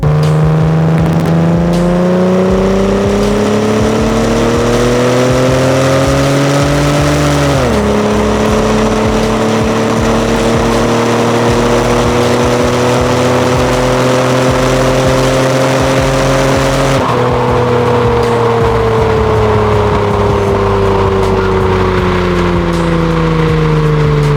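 A Toyota Supra and a second car drive through a tunnel, engines loud and echoing, revving up through the gears with clear shifts, and the rising engine notes ring off the walls for a long continuous run.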